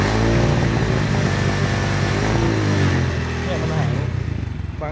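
A carbureted Honda Wave 100 motorcycle fitted with a 53 mm piston revs as the throttle is twisted, producing a steady, loud, close engine drone that holds for about four seconds, then eases slightly while someone talks over it.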